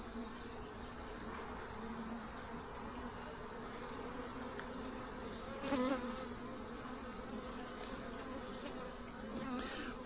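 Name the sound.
honeybees buzzing on a hive frame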